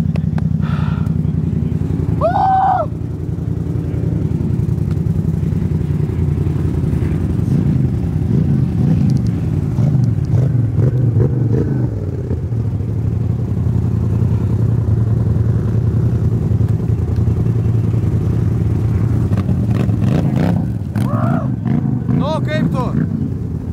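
A motorcycle running in a MOTOFOX 2025 time attack race keeps up a loud, continuous engine drone with shifting pitch under steady talking.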